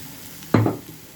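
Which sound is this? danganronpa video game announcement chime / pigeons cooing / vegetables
vegetables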